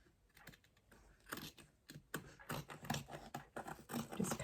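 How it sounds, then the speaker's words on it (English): Scissors snip through fabric and backing on an old cutting and pressing mat during a re-covering job, a run of close, crisp cuts with irregular rhythm, growing steadily louder, with no talking. "Now let's take some scissors."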